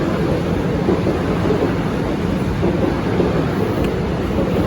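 A train ride rumbles on steadily from inside the carriage, a continuous loud low roar with no clear breaks and no voices.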